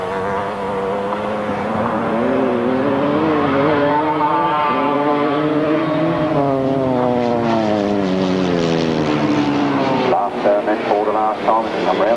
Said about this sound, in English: Throttle wide open, a win for number 180, Richard Sims